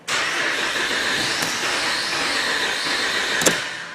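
The engine of a Dodge Ram 2500 starts and then stalls, a loud, close, steady running rumble lasting a few seconds with a sharp knock near the end as it dies.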